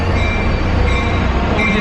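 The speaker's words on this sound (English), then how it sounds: "And this is a double-decker train." A double-decker train rolling on rails near San Francisco, heard from inside as a loud, steady rumble with faint wheel squeal and no talking.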